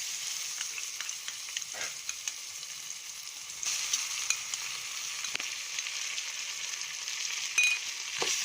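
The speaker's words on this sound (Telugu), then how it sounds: "బాగా అల్లం వెల్లుల్లి పేస్ట్ ఫ్రై అయ్యే వరకు సన్నమంట మీద లో ఫ్లేమ్ పెట్టుకొని వేగించుకోండి." Ginger garlic paste fries in a pan over a low flame, giving a soft, continuous sizzle with a few faint stirring scrapes and no voices.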